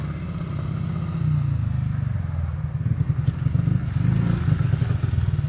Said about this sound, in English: Here comes Wyatt on his big motorcycle.